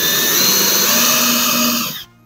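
A power drill bores holes into a kochia broom handle, a loud, steady whirring drone lasting about two seconds before it cuts off abruptly.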